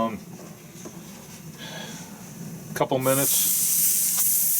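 Meat searing in a hot pan at a cabin, a loud steady hiss that swells after a brief burst of speech and carries on alone to the end.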